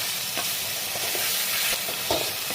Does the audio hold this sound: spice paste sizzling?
yes